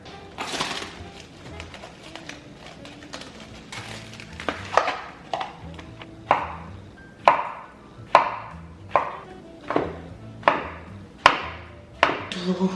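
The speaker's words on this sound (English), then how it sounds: "I have a bunch of these bell peppers that we didn't use for something else. So they're kind of already chopped a little bit, and I'm just gonna chop them a little bit more." Bell peppers being chopped with a knife on a cutting board, a steady run of sharp, close knocks that grows more regular and rhythmic, with faint background sounds.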